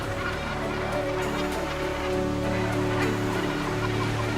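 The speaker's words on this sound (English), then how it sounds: "Great numbers of these birds live on the coasts in highly organized colonies" A large coastal gannet colony keeps up a dense, continuous chorus of harsh calls. Steady surf and a sustained tonal backing run underneath.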